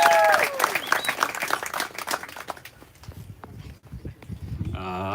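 Wedding guests clap for the newlyweds, the applause loud at first and then thinning and fading as a murmur of voices and a brief whistle or squeal come through.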